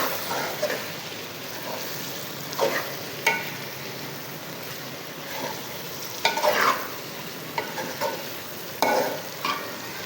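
Karela gosht, bitter gourd cooked with mutton, is stirred in a pot, giving scraping spoon strokes and soft sizzling at irregular intervals, close and moderately loud with no talking.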